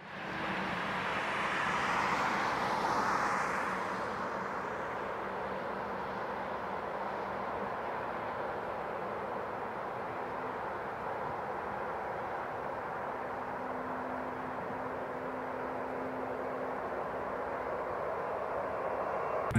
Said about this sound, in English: how much water the plane jets suck in and expel from the back when taking off